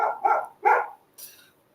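A dog barks three times in quick succession at close range, followed by a thinner, higher yip, with no talk.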